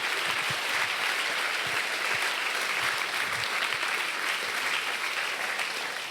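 A large conference audience applauds at an afternoon plenary session, dense steady clapping from many hands that holds at an even level throughout, with no talking over it.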